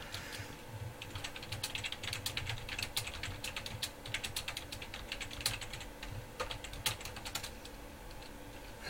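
Quiet, rapid clatter of fingers typing on a computer keyboard at a card-opening table, an irregular stream of close keystrokes with brief pauses, nobody talking.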